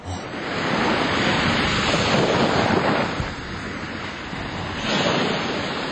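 Ocean waves surge and wash onto the shore with steady broadband roar, swelling and easing over several seconds, loud and close with wind noise buffeting the microphone; no voices.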